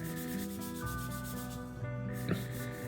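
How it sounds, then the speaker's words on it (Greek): Strips of wood veneer are rubbed down by hand with sandpaper for a table build, giving a steady, close scraping sound with no talking. "Και τώρα θα ξεκινήσω να τρίψω τις λωρίδες του καπλαμά."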